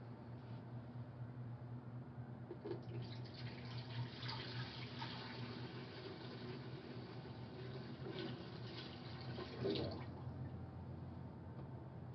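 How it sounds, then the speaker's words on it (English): Liquid is poured from a jar into a pitcher, a faint, steady trickle and splash running for several seconds with a brief louder gurgle near the end, quiet and close. "Now we're going to take the liquid from this jar and pour it into this pitcher"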